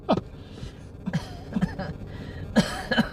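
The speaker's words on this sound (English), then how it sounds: "I coughed. Like I wheezed and coughed" A person coughs and wheezes at a Florida Gulf Coast beach at sunset, a cluster of short rough coughs and raspy throat sounds, close and fairly loud, spread over a few seconds.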